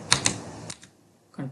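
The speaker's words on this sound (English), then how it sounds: "Just press escape on your keyboard" Several crisp keypresses on a computer keyboard, two sharp clicks close together followed by softer taps and a brief rustle, heard up close with no talking.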